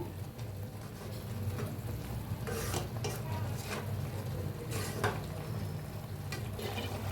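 Carrot halwa simmering with milk in a pan is stirred with steady scraping strokes over a constant low bubbling sizzle, close up and with no talking.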